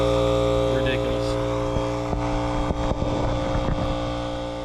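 Small electric pump on an old three-point tractor sprayer being rebuilt, running with a steady droning hum and rattling clicks, close up, with a voice talking over it.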